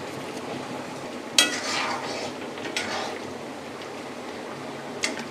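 Lauki kofta curry simmering in a pan after garam masala goes in, with a sharp utensil clink against the pan, gentle stirring scrapes and a soft bubbling hiss, a second lighter clank near the end.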